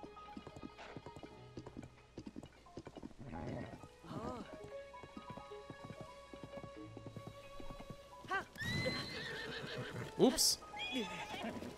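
Horse neighing and clip-clopping hooves in the video game Zelda: Tears of the Kingdom, with rain in the background. Steady hoofbeats continue throughout, and a sharp whinny rises near the end. Someone talks briefly.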